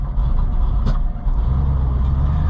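A truck bought at auction being driven off: a loud, steady low engine rumble close by, with a brief dip midway and a faint higher whine on top.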